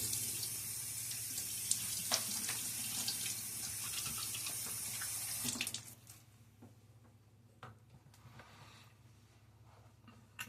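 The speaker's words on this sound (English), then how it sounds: "Quick splash of water here." Tap water runs and splashes onto a shaving brush at a bathroom sink for about five seconds, a steady broadband rush, then cuts off to quieter drips and faint handling sounds.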